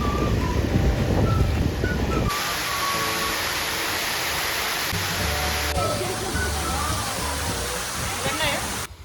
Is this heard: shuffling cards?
no